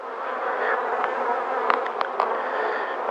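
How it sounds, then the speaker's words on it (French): Honeybees swarm around an open hive, a steady dense buzz of many insects close by with a few louder passes of single bees, no talking. "Vous voyez, il y a beaucoup de petites abeilles."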